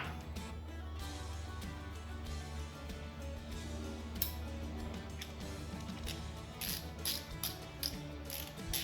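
A ratchet snugs up bolts while A/C and power steering components are mounted on a Coyote-engined Cobra. A quiet, rapid clicking of the pawl runs steadily, with a few sharper ticks toward the end and no talking.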